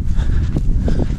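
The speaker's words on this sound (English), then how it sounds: "some of the local horses are back in the fields, and they've got foals with them" Horses out in a local field, foals alongside them, with soft, irregular hoof thuds and movement close by over a low rumbling outdoor background.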